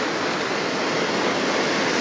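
Floodwater from the Arapath nala in Kashmir rushes in a steady, loud, broadband roar with no breaks and no voices.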